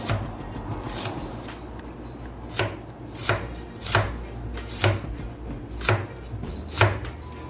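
An onion is sliced on a cutting board for paksiw na bangus, giving crisp, evenly spaced knife chops about once a second, close up and fairly quiet.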